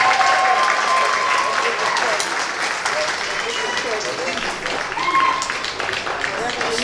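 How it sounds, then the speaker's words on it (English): A music festival crowd applauds steadily and loudly throughout, with scattered cheers and whistles rising above the clapping. "Give him a nice round of applause."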